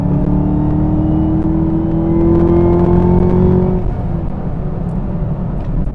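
A 2021 Chevrolet Camaro ZL1 with a supercharged V8 revs up in a rising, droning whine heard from inside the car, holding steady and loud before the pitch drops away into a lower hum.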